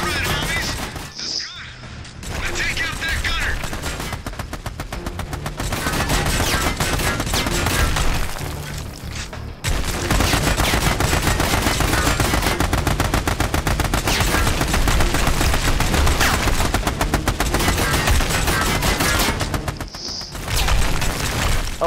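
Turret machine gun fire in Army of Two blasts in long sustained bursts, mixed with heavier booms and crashes. A short break comes near the midpoint before the firing resumes, loud and dense throughout.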